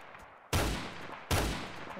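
Two sharp, loud gunshots from the Roblox shooter Phantom Forces ring out under a second apart, each with a broad crack and a decaying tail, with no talking over them.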